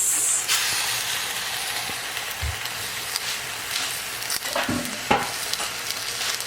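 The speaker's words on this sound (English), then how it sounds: "throw all our meats in the pot. Our briskets." Brisket pieces sizzle and hiss as they fry in a pot for pepper pot, a steady close crackle with a couple of soft clunks of meat or utensil against the pot and no voices.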